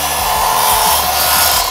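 A miter saw cuts crown molding with a loud, continuous, close whine and rasp that holds steady through the short cut.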